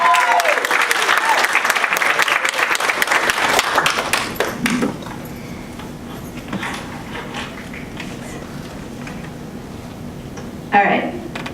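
An audience applauds to welcome a speaker, a dense steady wash of clapping that tapers off after several seconds into a quiet room, followed by a brief rustle.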